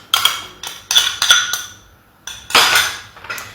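A metal spoon clinks against a bowl while yogurt is added, in several sharp bursts of clatter separated by short pauses, close and fairly loud, with no voices.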